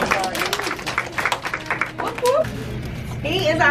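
Children clapping at a school reading celebration, a burst of scattered claps that fades into voices and chatter, with kids and adults talking near the end.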